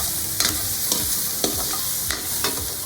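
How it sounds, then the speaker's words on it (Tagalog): Meat being sautéed in a pan for Bicol express gives a loud, close sizzle, with a regular series of spatula scrapes and knocks against the pan roughly every half second. "Igisa natin ang karne."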